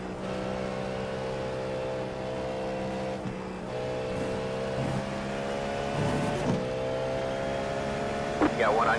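Race car engines, including Ferraris and Porsches, drone steadily in a Le Mans racing video game, with a sustained mid-pitched engine note and slight shifts, under a continuous backdrop of voices talking.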